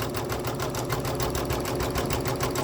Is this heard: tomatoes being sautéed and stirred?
no